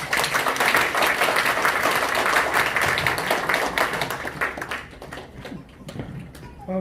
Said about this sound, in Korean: 다음 회장님 개회 인사를 힘찬 박수로 모시겠습니다.